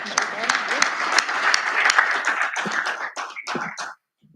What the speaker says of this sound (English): let's give a good applause